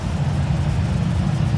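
Steady low roar of an Airbus A319 jet engine revving in Microsoft Flight Simulator X, a dense, even rumble held at constant loudness throughout the short stretch, close and without voices.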